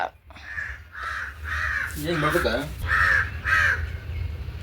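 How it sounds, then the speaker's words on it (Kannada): A crow caws repeatedly, about six harsh calls in a loose rhythm, fairly close and clear over a low, steady background hum. "ಗೆಸ್ಟ್ ಬತ್ತವ್ರೆ, ಕಾಫಿ ಟೀ ರೆಡಿ ಮಾಡ್ಕೊಳ್ರಿ ಅಂತ ಕಾಗೆ ಕೂಗ್ತೈತೆ"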